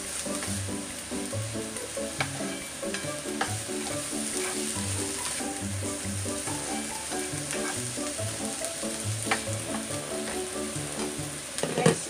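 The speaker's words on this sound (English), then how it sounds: "Gisa-gisa lang natin siya." Sausage sizzles and spits steadily in a hot pan while it is sautéed, with repeated stirring and scraping and a few sharp utensil knocks.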